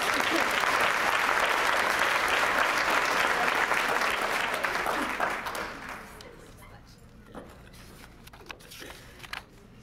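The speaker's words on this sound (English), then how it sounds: "one more round of applause for all these PCC alums." Loud, dense applause from a large audience at a high school graduation fills the first half, then thins into scattered claps and quieter crowd noise.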